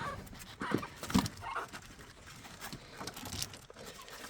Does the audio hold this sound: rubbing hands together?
no